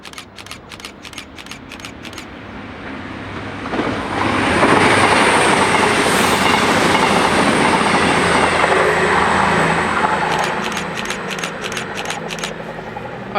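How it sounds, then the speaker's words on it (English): A Voyager train passes through Dawlish Warren station on the Great Western main line, a loud rising rush of engine and wheel noise that swells, holds steady and then fades, with rhythmic clicks at the start and end. "passing through now, we have a Voyager."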